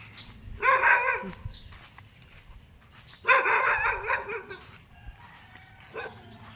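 Two bursts of dog barking from some distance, separated by a pause, over a low outdoor background hum.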